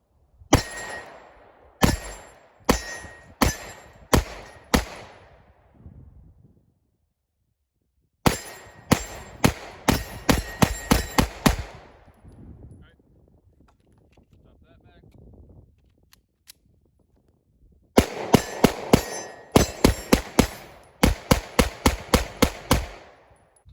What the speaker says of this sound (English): Mags aren't hanging up in there, coming out.